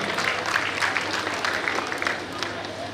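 Applause at a community award ceremony as a prize-winning student receives an award, moderate crowd clapping with voices and background sound mixed in.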